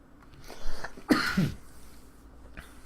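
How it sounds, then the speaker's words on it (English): A single cough bursts out around the middle, fairly close, followed by a short throaty tail, then quiet room tone. "Coughing away from the mic, hopefully."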